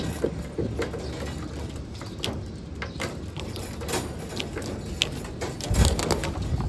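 Seven racing pigeons returning from a 116 km training flight out of Unisan, Quezon, fill a loft with continuous cooing, wing shuffling and light mechanical knocks, ending in a low thump.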